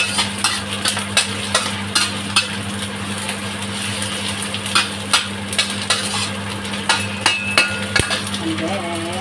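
Chopped onions sizzling in a pan while cooking crab with scallions, a steady low fry with scraping stirs and utensil clinks tapping at irregular intervals; a voice speaks briefly in the background.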